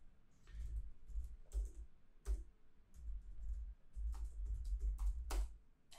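Quiet typing on a computer keyboard: scattered, irregular keystroke clicks in small bursts over a faint low background.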